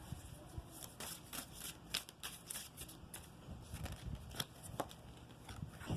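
Tarot cards shuffled and drawn during a reading, a steady run of soft riffling and papery flicks with sharper snaps scattered throughout, close and fairly quiet, with no talking.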